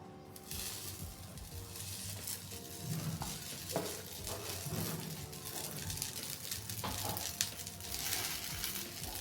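Chopped okra frying in oil in a pan gives a dense, continuous sizzle with occasional clinks of stirring throughout, and no talking.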